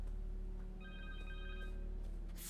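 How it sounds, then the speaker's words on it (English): A phone rings in the video game Marvel's Spider-Man 2. It is a faint, brief electronic ring over a steady, low game background hum. "Phone."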